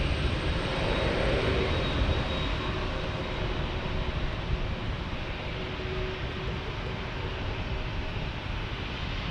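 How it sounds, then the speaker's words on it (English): A FedEx jet, a mid-size widebody, lining up on the runway for takeoff at San Diego airport; a steady, broad engine roar heard from a distance, constant and unbroken throughout with no voices. "FedEx is getting ready to take the runway here"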